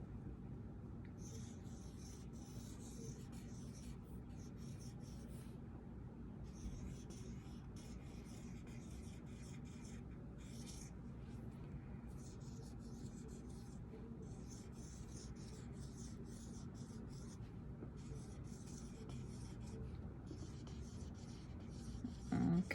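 Handwriting on a board, a faint, close scratching and rubbing in short bursts with brief pauses between strokes, continuing quietly over a low background hum.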